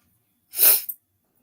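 A single sharp sneeze, close and loud, bursting out of silence and ending abruptly.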